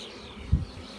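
A honeybee swarm being collected outdoors in open countryside gives a faint steady buzzing, with a brief low thump partway through.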